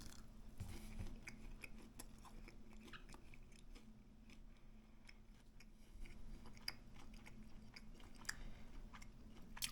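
Someone chewing garlic-roasted turkey tenderloin close to the mic, a quiet run of moist bites and crunchy mouth sounds over a low steady hum, with no voice.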